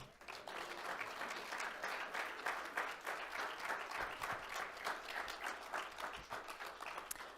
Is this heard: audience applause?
yes